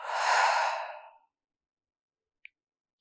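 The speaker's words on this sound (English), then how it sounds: "And then breathe out, exhale." A single deep, breathy exhale during a yin yoga session, close and soft, fading out within about a second, then quiet with two tiny clicks.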